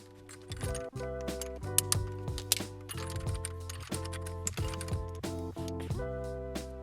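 A nut driver works a stuck nut on a boat's drive shaft assembly, quick repeated metallic ratcheting clicks in a halting rhythm, close and fairly faint.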